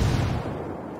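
A single heavy explosion in the video game Ghost Recon Wildlands booms and then rumbles away into a fading, crackling tail.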